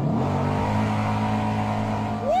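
An Indian bagger motorcycle engine pulling hard under acceleration: a deep, steady, loud rumble with rich low harmonics that holds throughout, with a brief rising whine near the end.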